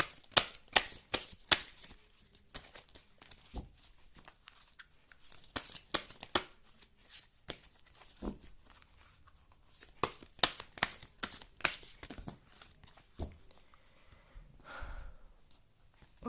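Tarot cards being shuffled up close, with repeated quick riffling bursts that run steadily throughout and no voices over them.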